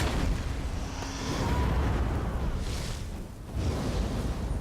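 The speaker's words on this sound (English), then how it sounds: "Got a spectral explosion for the Daedrath." A spectral explosion skill in Elder Scrolls Online, heavy booming bursts and rumbling blasts with a brief swelling hiss, loud and close, dipping for a moment before another surge.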